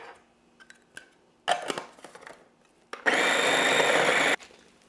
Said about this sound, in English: blitz your onion in your food processor, your garlic, and blitz your peeled ginger